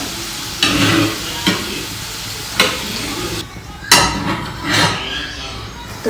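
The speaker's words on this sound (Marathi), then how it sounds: "तर बघू शकता बटाटे मस्त फ्राय झालेले आहेत छानपैकी." Potatoes frying in a pan give a sizzling hiss broken by several sharp scraping stirs and clinks of a utensil against the pan.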